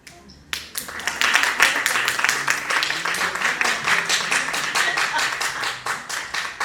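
Audience applause at a French comedy club show, a dense burst of clapping that starts abruptly after a brief quiet moment and carries on steadily at close range, with some voices and cheers mixed in.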